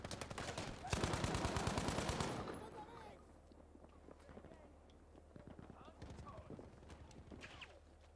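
Gunfire in the video game Insurgency Sandstorm: a dense, loud burst of rapid automatic shots at the start, then scattered single shots and clatter further off, with a voice talking over the action.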